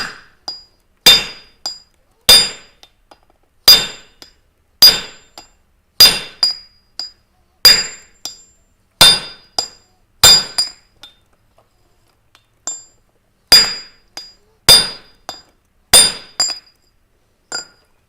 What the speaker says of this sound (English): So now we got to put the flatter here. I'll try to square this up a little bit.